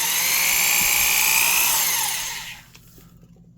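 A Bosch 3/8-inch professional corded drill with helically cut gears whirs steadily at close range for a couple of seconds, then winds down and stops, leaving near silence.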